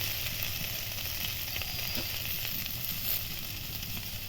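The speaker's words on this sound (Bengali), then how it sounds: "আদা রসুন বাটা দিয়ে আবারও কিছুক্ষণ কষে নেব" Ginger-garlic paste fries in a pan for a papaya fish curry, giving a loud, steady hiss of sizzling oil with faint stirring and no talk.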